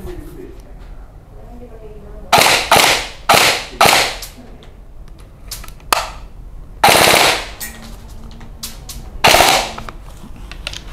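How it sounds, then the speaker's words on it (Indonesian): Airsoft gun with a low-capacity magazine fired in semi-automatic mode: five sharp, loud single shots at irregular intervals of about one to two seconds, each trailing into a brief echo, with no talking between them. "Sekarang kita akan tembak pakai semi dulu."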